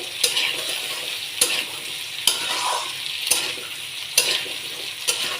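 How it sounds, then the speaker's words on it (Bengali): Potato pieces fry in a pan for a winter dish of snakehead fish with pumpkin bori, with a constant sizzle and a spatula striking and scraping the pan at regular intervals. "আলুটা এভাবে ভেজে নিচ্ছি"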